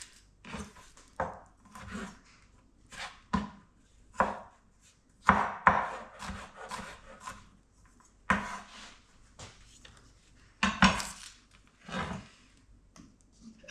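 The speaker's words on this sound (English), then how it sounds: "Just a rough chop." Rough chopping of vegetables for restaurant-style salsa: a series of irregular, fairly close knife strikes against a cutting board, coming in uneven bursts with short pauses, with no talking.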